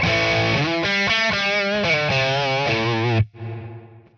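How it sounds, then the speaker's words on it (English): An electric guitar runs through an overt, ducked reverb, strummed chords ringing out loud and upfront, then the reverb tail swells back in softly once playing stops. "when I play, it's ducking the reverb out of the way"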